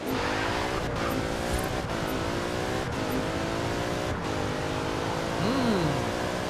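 A heavy tuned car in Forza Horizon 4 launches hard and accelerates with a steady, loud engine drone that climbs through gear shifts, a brief tire squeal near the end.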